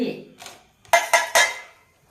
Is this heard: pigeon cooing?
no